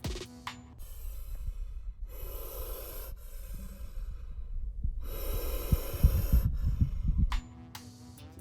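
Gaboon viper huffing in a defensive display, two long loud breathy exhalations separated by a pause, close and rough with low rumbling underneath.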